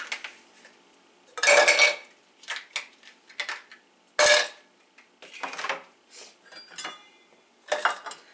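Ice cubes dropped into a blender cup in a morning shake routine: a handful of bright, close clatters and rattles of hard cubes hitting plastic, in short separate bursts with quiet gaps between.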